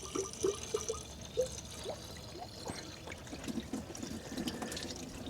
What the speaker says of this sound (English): Pouring in some fresh coolant.